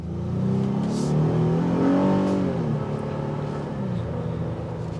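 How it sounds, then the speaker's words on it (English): A 2024 Honda Ridgeline TrailSport V6 engine revs hard and climbs in pitch, a loud steady roar that rises and then settles into a sustained drone, with no voices. "The V6 engine screams"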